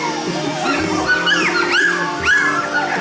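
Golden puppies and dogs whimper, yip and bark up close and fairly loud, with high whiny cries and short yelps overlapping through the whole stretch.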